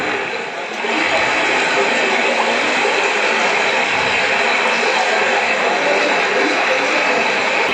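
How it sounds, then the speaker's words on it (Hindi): Water from a waterfall gurgles and rushes in a steady, continuous wash, staged as part of a live folk theatre performance, with no voices over it. "कलकल का स्वर सुनाई दे रहा है।"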